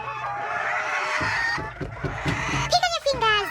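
Chickens cluck in short bursts, close by, in a village in Kenya, with a rising squawk near the end and a voice talking underneath.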